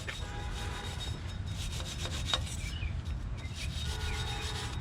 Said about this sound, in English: There's a steel wire brush.